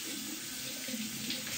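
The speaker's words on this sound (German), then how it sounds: "Den Rasierpinsel habe ich gerade einfach nochmal kurz unter dem Wasser geschwenkt" A shaving brush is swished under a running tap in a bathroom sink, giving a steady, close rush of water that lasts the whole short moment.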